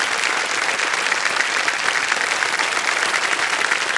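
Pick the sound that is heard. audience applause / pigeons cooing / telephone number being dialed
audience applause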